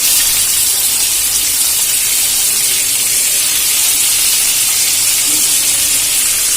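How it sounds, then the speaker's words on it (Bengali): Pieces of salted, turmeric-rubbed rohu fish fry in hot oil in a wok, giving a loud, steady hiss and sizzle that holds evenly throughout without a break. "আমি এখানে মাছগুলো দিয়ে ভেজে নেবো"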